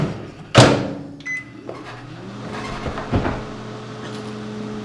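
A microwave oven hums steadily after a sharp knock, its electric drone holding under a few small clunks.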